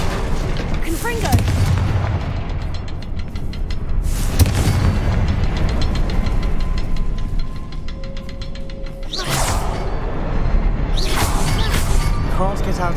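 An explosion spell goes off repeatedly in a video game, producing several loud booming blasts with whooshing tails spaced a few seconds apart, over a constant droning game background while someone speaks.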